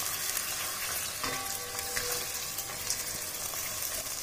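Paneer pieces frying in a pan of chilli paneer gravy, a steady close sizzle and crackle with occasional soft clatter, no talking.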